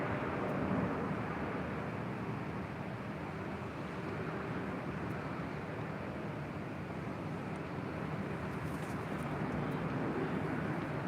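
A Delta Airbus A330-900neo jet at LAX gives off a broad, steady roar at a moderate distance, unchanging and smooth for the whole stretch with no voices on top.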